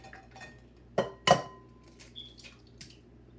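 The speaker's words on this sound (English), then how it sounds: "So I'm going to crack the egg" An egg cracked against a bowl while making punch de creme: two sharp knocks close together, followed by quiet dripping and light clinks of dishes in a quiet kitchen.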